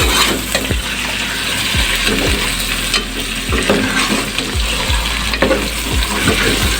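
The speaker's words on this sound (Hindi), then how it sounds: "और फ्राई हो रही है हमारी चिकन" Chicken frying in a pan with crushed garlic and ginger, a steady close sizzle with repeated sharp scrapes and knocks of a spoon stirring, no talking.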